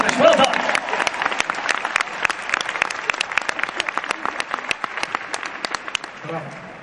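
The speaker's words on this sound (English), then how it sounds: "Yes, you can clap for you" A concert crowd at a show in Belgrade claps, starting as a dense wash that loosens into distinct, rhythmic individual claps before dying away near the end.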